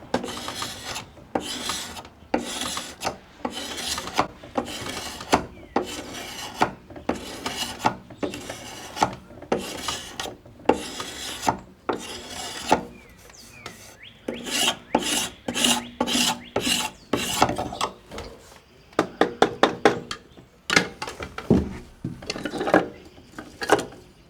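Drawknife shaving wooden spokes clamped on a shaving horse for a wagon wheel repair, in 1700s frontier woodworking: repeated rasping strokes, close and loud, in a steady rhythm with short pauses, no talking.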